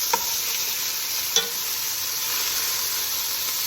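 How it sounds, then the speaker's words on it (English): Meatballs fry in a pan with a soft, steady hiss of sizzling throughout, broken by two brief sharp ticks, close and fairly quiet with no voices. "Little sizzle on there."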